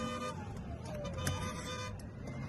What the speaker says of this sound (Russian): Сигналят люди рядышком